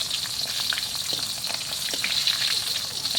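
Steady hissing sizzle of dried fish frying in hot oil, with faint crackles and pops throughout and no talking.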